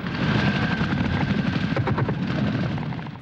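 A Hughes helicopter flies close by, its rotor chopping in a rapid, steady thump over a loud turbine whine.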